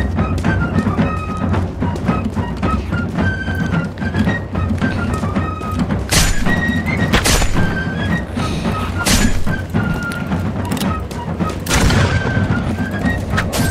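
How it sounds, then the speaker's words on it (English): Gunfire including a blunderbuss blast in the musket-era battle game Guts and Black Powder, dense loud volleys and thumping shots layered over constant battle noise and music, with no speech. "I have a blunderbuss, so I want to save ammo"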